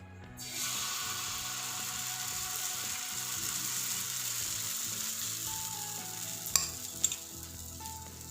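Oats pancake batter sizzles and bubbles steadily in a hot pan, a continuous close frying hiss, with a couple of sharp utensil clicks near the end and no talking.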